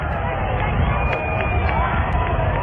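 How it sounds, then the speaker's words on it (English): Crowd cheering along a street as President Kennedy's motorcade approaches, with Mrs. Kennedy present; a dense, steady roar of many voices with shouts and babble throughout. "Now, as he becomes more visible down to this end, the people cheer."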